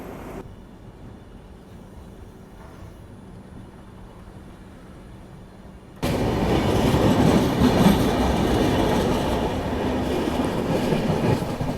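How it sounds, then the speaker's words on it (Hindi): A passenger train runs alongside a stationary goods train on the tracks, quiet rolling at first and then a sudden loud, sustained roar of rushing wheels and clatter close by. "चलो, वो गुड्स ट्रेन है"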